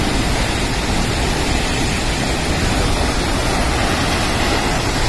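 Massive cascading water at Athirappilly Falls in Kerala, a dense, unbroken roar heard up close, loud and constant throughout with no voices over it.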